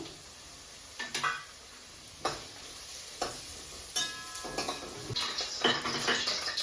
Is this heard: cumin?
yes